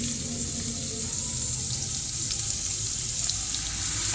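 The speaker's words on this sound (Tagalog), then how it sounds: "Lagyan natin ng konting tubig." Water pours into a wok of frying vegetables for a vegetable lumpia filling, a steady close rushing splash blended with a soft sizzle that holds evenly for several seconds.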